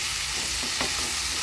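Amaranth leaves being stirred into tomatoes in a hot pan, giving a steady loud sizzle with a brief scrape of the spoon partway through, alone with no voices.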